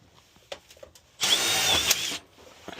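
Power drill driving screws into wiring harness fittings on a Crown steam boiler, a single close whirring burst lasting under a second, set among a few faint clicks and handling taps.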